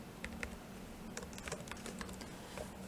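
Fingers tap out a short string of keystrokes on a computer keyboard to enter a search term, quick irregular clicks that sound faint over a low steady hum.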